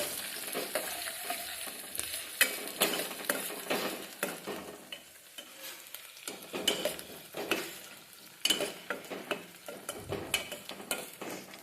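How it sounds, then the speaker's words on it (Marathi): Onions frying in a pan are stirred with a utensil, producing a continuous sizzle under repeated scraping and tapping strokes against the pan, close and fairly quiet, with no voices. "इथे कांद्याला आपण जरा ढवळून घेऊया"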